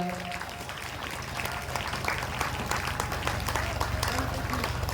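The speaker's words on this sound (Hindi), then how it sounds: "तालियों से संत समाज का पूरे जोरदार हर्षोल्लास के साथ स्वागत किया जाए" Applause from the crowd at a Shri Ram Katha gathering welcoming the assembled saints: steady, dense clapping that holds for the whole stretch over a low background hum, with some voice faintly underneath.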